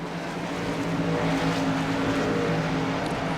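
V8 stock car racing trucks in an iRacing simulation at Canadian Tire Motorsport Park roar steadily through a turn, a dense, continuous engine drone with several vehicles close together and no pauses.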